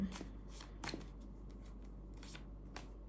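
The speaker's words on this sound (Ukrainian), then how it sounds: "з кожної колоди я витягую по три карти" Tarot cards are shuffled in a few short riffling bursts, close and quiet, with no talking.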